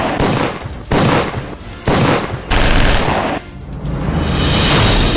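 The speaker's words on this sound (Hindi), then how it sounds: "अचानक गोलियों की आवाज सुनाई दी" Sustained gunfire during a CRPF commando patrol in a Naxal-affected Chhattisgarh forest, several loud bursts of shots in quick succession, each lasting about a second, ending in a long continuous volley with no speech.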